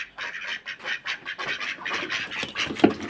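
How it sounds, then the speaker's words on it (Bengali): A flock of household ducks quacks nearby in rapid, overlapping bursts that go on for the whole stretch, loud and close, with no talking. "এগুলো আমার হাঁস"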